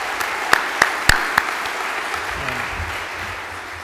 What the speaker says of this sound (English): Can you actually give a round of applause to Paige?